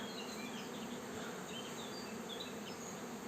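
Honeybees hum steadily around the hives of an apiary in a light breeze, a dense, even drone that fills the whole moment with no voices.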